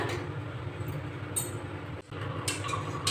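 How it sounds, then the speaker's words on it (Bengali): Coriander parathas fry in a hot kadai, giving a steady, close oily hiss that dips briefly for a moment, along with a few soft metallic clinks. "এবার দিয়ে দিচ্ছি একটা পরোটা"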